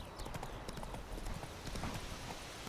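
A horse's hooves clip-clop in The Witcher 3 video game, a quick, steady run of hoof beats over a busy game background, with faint speech mixed in.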